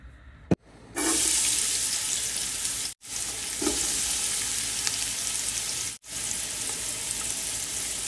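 Onions frying in oil in a pan, a loud continuous sizzle that starts abruptly after a short click and runs steadily, broken by two brief cuts. No one speaks.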